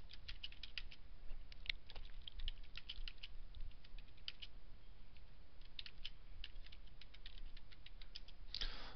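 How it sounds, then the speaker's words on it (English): Quiet, irregular clicks of keys on a computer keyboard as someone types a comment into MATLAB, with bursts of rapid keystrokes separated by short pauses and no talking. "You put in the percentage sign and you type in your command or your note."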